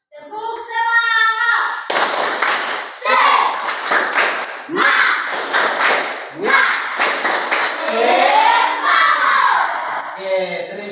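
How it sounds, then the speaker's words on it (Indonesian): Schoolchildren in a classroom performing the tepuk semangat clapping routine, rhythmic bursts of clapping in time with shouted chanting, loud and close, grouped in short patterned phrases. "Maka itu mari kita tepuk semangat sama-sama."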